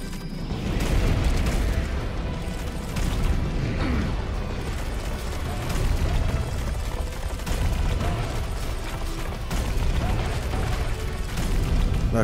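An enemy fires at the player in the first-person shooter Serious Sam 4, a dense, continuous barrage of booming shots and bursts with heavy mechanical rumble, loud throughout.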